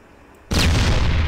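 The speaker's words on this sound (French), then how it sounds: "Voilà, vous avez pu entendre un tir." A tank cannon fires in the video game Arma 3, one sudden loud boom after a quiet moment, followed by a heavy rumbling blast that holds to the end.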